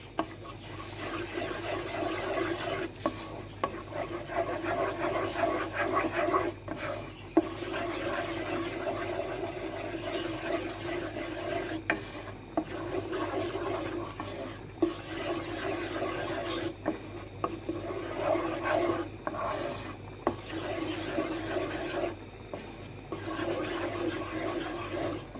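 Flour being stirred and toasted in a pot for broccoli soup gives a continuous rasping, scraping scrape of a utensil against the pot, steady and close, with brief pauses.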